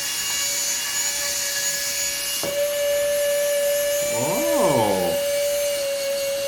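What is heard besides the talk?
Radical Racers wall-climbing toy car suction fan running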